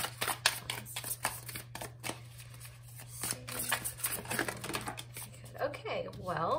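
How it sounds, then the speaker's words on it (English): A deck of tarot cards is shuffled by hand in a repeated riffling, close and fairly soft, with a person talking over the shuffling. "we're going to shuffle your tarot on camera."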